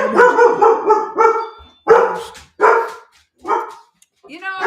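A dog barks several times in short bursts, loud and close, with pauses between barks and a higher yelp at the end.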